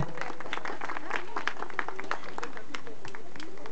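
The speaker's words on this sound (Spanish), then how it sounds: "Un aplauso por favor a Tigre Oro" A crowd at a sports league award ceremony claps in a steady, moderately loud burst of applause after a match, with voices mixed in.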